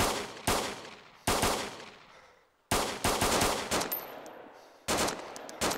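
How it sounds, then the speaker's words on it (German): Bursts of gunfire in the survival game DayZ, several loud sharp volleys of rapid shots separated by short pauses, close and alone without voices. "Der schießt, irgendwer schießt auf uns."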